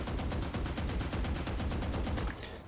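A continuous full-auto spray from a gun in Valorant, a steady rapid string of loud, evenly spaced shots lasting a couple of seconds before tapering off at the end.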